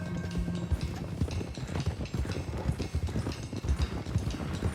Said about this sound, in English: let's get these horses to Clemens Cove quick before we run into any more trouble